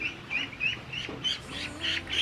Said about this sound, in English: One of them starting to quack now.